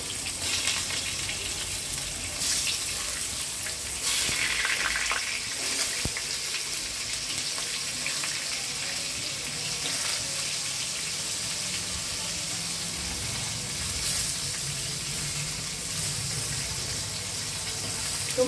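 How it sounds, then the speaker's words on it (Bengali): Pointed gourd pieces coated in salt and turmeric fry in hot oil with a dense, loud, continuous sizzle and crackle, close up, rising briefly in bursts as more pieces go in, with no talking. "তেলে দিলাম, দিয়ে দিচ্ছি পটলগুলো"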